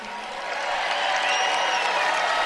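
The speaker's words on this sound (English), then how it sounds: "Listen to them cheer about America." A stadium crowd at the Olympics cheers and roars in a sustained, dense wash of voices that swells slightly and holds steady, a loud and continuous mass of noise with no single voice standing out.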